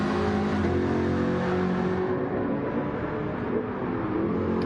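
A race car at full throttle on a circuit, running wide enough to clip the grass: a loud, close engine roar that holds steady and shifts in pitch as it accelerates, with no talking.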